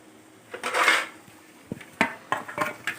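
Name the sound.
lid being put on a cooking pan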